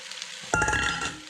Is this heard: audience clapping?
no